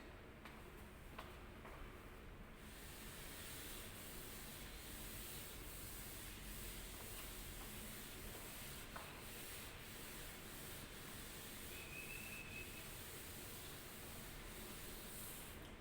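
Writing being rubbed off a classroom board, a continuous faint dry scrubbing with soft strokes, steady and alone.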